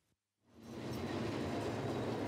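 A train arrives at a rural station in the inland town of Malema in the African tropical savannah. After a brief quiet pause, a loud, steady rumble of rolling wheels and cars builds up and carries on.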